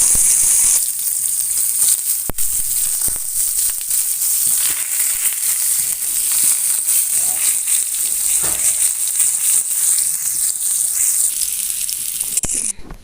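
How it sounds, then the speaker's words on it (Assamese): Brinjal (eggplant) pieces fry in hot oil in a kadai, giving a steady, loud, close sizzle that runs unbroken for the whole stretch, with a few brief stirring knocks. "আৰু তাতে মই এতিয়া বেঙেনাখিনি ফ্ৰাই কৰি ল'ব লাগিব।"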